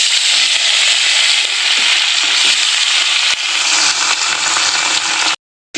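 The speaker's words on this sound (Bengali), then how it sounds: "আজকে একে মাছগুলো ভেজে নেওয়া যাক।" Fish frying in hot oil, making a loud, dense, continuous crackling sizzle heard up close that holds steady throughout before cutting out abruptly near the end.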